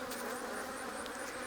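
Honey bees buzz at an open hive, a faint, continuous low hum with no talking.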